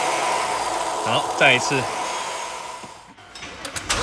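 A car engine idles after its high-pressure gasoline fuel pump has been replaced, giving a steady mid-pitched hum that runs through the whole stretch while someone speaks briefly over it.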